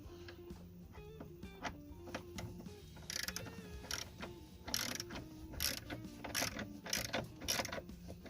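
A 13 mm ratchet clicks steadily as it tightens the battery hold-down bracket bolt on a Chevy Avalanche: close, rapid pawl clicking in repeated strokes, growing busier toward the end, alone without talk.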